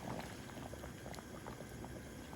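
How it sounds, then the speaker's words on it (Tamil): Mutton bone rasam simmering in a covered pot: a faint, continuous bubbling and soft popping, close and steady throughout with no talk. "அப்படியே ஒரு 5 நிமிஷம் மூடி அவிய விடுவோம்."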